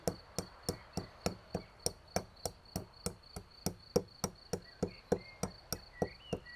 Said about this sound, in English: Now we grind in the mortar black pepper and lovage.